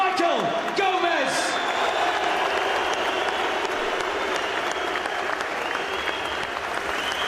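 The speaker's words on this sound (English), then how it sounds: "A round of applause for the gallant Michael Gomez." A boxing arena crowd applauds after a Commonwealth 135 lb title fight, a steady wash of clapping and crowd noise carrying on under a voice talking over it.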